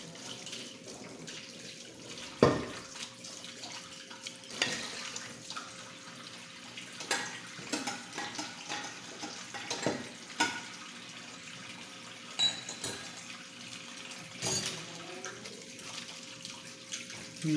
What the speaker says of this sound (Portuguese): Tô lavando louça.